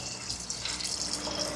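Water pours steadily into a cooking pot on a home kitchen stove, a continuous close splashing rush that runs without pause and with no talking over it.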